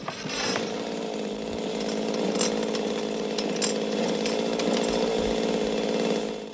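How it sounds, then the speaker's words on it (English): Chainsaw engines in a 1980 horror film's chainsaw fight drone and rattle loudly and continuously, with revving surges and sharp metallic bursts layered over the roar. "Chainsaw fight."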